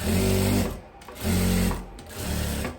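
A sewing machine stitches a 1 cm seam on a dress in three close bursts of rapid mechanical whirring separated by brief pauses.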